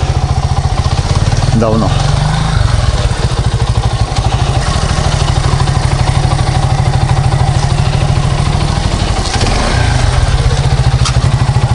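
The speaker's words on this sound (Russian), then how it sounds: "Альфа Спорт 50 кубовая, ну типа. Еду в город." An Alpha Sport 50cc moped engine runs steadily up close, giving a loud, constant buzzing putter throughout while someone talks over it.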